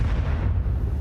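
A grenade explodes in the Counter-Strike video game, a heavy low rumbling boom that fills the short moment with dense bass and dies away at the end.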